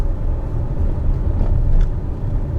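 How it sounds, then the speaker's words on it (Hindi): An MG Astor accelerates with its active speed limiter engaged, producing a constant low road-and-engine rumble heard from inside the car, loud and unbroken, with no speech. "मैंने एक्सेलरेशन दे दिया है।"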